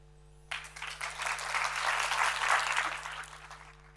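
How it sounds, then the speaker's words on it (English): An audience at a Three Minute Thesis competition final claps steadily for several seconds, swelling quickly and then fading out, with no voices over it. "Well-deserved applause for you."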